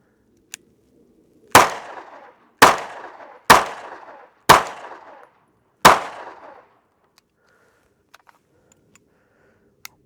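A Sig P320 M18 pistol, California-compliant model, firing 115 grain full metal jacket rounds: five sharp, loud shots at uneven intervals, each with a short echoing tail, then near silence.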